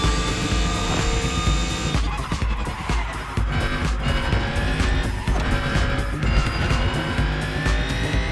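The fully electric Mercedes Silver Arrow drives in the video game The Crew Motorfest, a smooth rising whine with tire squeal and rushing road noise, loud and continuous, with game music underneath.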